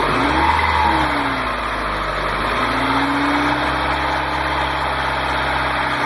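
A car engine revs up to about 2,000 RPM and holds there, a loud, close, steady roar rising briefly at the start, with no talk over it.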